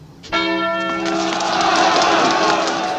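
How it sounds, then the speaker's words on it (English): Bells chime in a film race scene, a bright ringing peal that starts abruptly and rings on steadily under a swelling crowd murmur and cheering throughout. "we hear the chimes"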